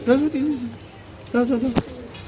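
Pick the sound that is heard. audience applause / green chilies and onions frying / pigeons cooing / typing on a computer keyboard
pigeons cooing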